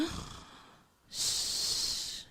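Children imitate heavy snoring with their voices, a loud breathy inhaling rasp, a brief pause, then a long, loud hissing exhale, close and alone.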